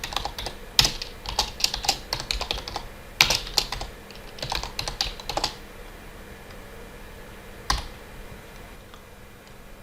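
Code being typed on a computer keyboard for a beginner Java hello-world program, heard as bursts of quick, close key clicks with short pauses between runs and a lone keystroke near the end.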